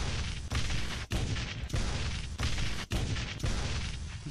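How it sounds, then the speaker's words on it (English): Stock explosion effects from the Unreal Engine 4 starter content play one after another, about eight heavy, rumbling booms in quick succession, each cut off abruptly, loud and alone without any talking. "maybe you just want to grab the different explosion sounds and maybe a collapse sound or something"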